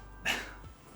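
A single short bark from a puppy, brief and moderately loud against a quiet room, fading quickly with a faint low rumble after.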